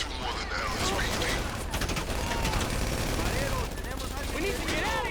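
Heavy gunfire in a GTA Online shootout during a Cluckin' Bell farm raid, with sustained rapid volleys and scattered impacts. Shouting voices rise intermittently over the shots.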